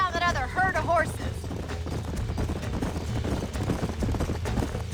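Hoofbeats of several horses in Red Dead Redemption clop steadily and close, mixed with game music and ambience, while a brief whinny-like call rises early on.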